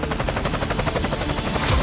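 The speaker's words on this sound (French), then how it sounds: "on fait appel à l'hélicoptère" An Alouette III rescue helicopter flies over a vast mountain area during a search, its rotor giving a steady, loud chopping pulse with engine whine that fills the whole stretch with no voices.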